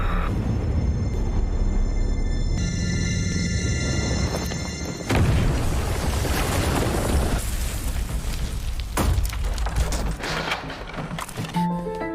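A bomb explosion in the action film Desperado roars as a dense, sustained rumbling blast, loud throughout, with crackling debris and shifting bursts layered over tonal film soundtrack elements.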